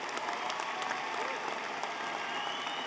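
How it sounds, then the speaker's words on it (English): A commencement audience at UA Little Rock's fall 2019 ceremony applauds College of Social Sciences and Communications graduates, a dense, steady wash of clapping from a large crowd that holds evenly throughout. "Let's applaud our College of Social Sciences and Communications graduates."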